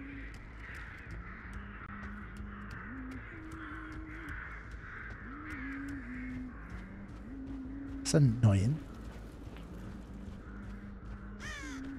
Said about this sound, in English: Annoying to hear more crows.